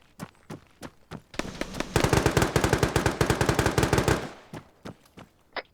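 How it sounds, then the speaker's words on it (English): Sustained machine gun fire in a tactical shooter game, preceded and followed by scattered single gunshots, a dense rapid burst lasting about two seconds at close range, loud and sharp. "I hear gunfire still."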